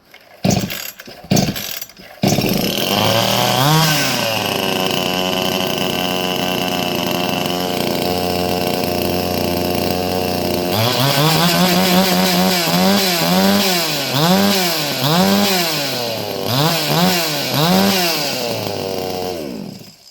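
A petrol chainsaw is started with a few sharp pull-start rattles, then the engine catches and runs loud and close, holding a steady drone before revving up and down in repeated surges.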